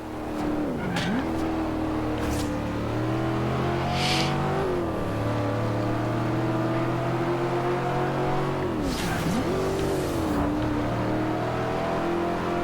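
A car engine in Forza Horizon 2 drones steadily close up, with its pitch dipping and rising again through gear changes and a brief tyre squeal, under a constant engine tone.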